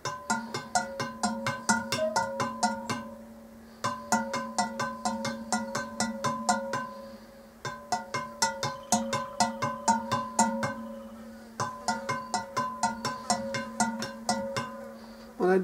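Vietnamese ceramic bells chime in quick, regular patterned runs of bright, ringing strikes, repeating in cycles with brief pauses, fairly quiet and with no voices.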